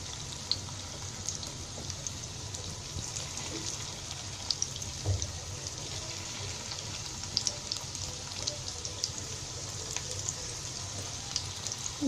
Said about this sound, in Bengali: এবার এটা ভাজবো।